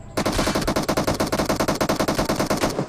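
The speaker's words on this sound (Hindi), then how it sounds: "एक बंदा बोट फायरिंग करता है, हमको लगता है बोट है, मगर सिंगल टैप करता है" Rapid automatic gunfire from the PUBG battle royale video game, a loud, continuous burst of fast, evenly spaced shots lasting about three seconds with no talking.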